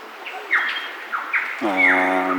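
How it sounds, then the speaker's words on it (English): A superb lyrebird calls with a run of rapid descending whistles and sweeps, ending in a rich, harmonic-laden note, loud and close against a quiet background. "It's vocalizations of superb lyrebird, who is still calling."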